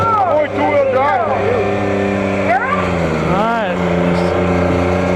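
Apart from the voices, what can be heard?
garden tractor engine roaring during a tractor pull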